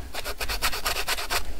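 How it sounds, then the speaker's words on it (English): A small sanding block rubs back and forth over dried paint on a book spine, giving about ten quick, even rasping strokes, close and clear with no talking. "We can use my little sanding block on that."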